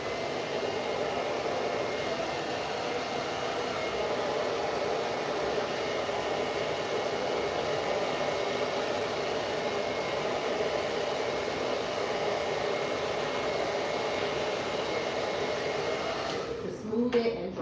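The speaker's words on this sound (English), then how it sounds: "Once you put the blow dryer on it" A blow dryer roars continuously for the whole stretch, a steady airy whoosh close by, with a brief shuffle at the very end.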